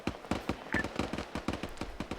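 Distant gunfire in the military shooter game Arma 3: a steady series of sharp, delayed reports spaced roughly every quarter second, rolling and echoing under faint background noise.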